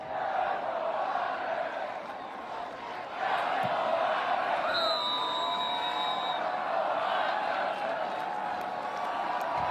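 A record-setting stadium crowd cheers and roars loudly and continuously through a college football game at Dyke House Stadium, with a brief whistle cutting in partway through.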